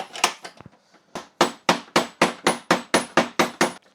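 Steady series of sharp metallic hammer blows on a Ducati motorcycle, about a dozen evenly spaced strikes ringing close by, preceded by a few lighter taps.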